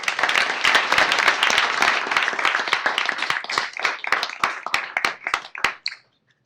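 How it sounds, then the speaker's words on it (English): Audience applause at a CPS Energy board of trustees meeting, honoring trailblazers: a dense round of clapping that thins into scattered separate claps and stops near the end. "One more round of applause for our trailblazers"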